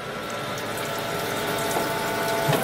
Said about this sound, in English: I'm going to feed this flood coolant. I'm just going to start it,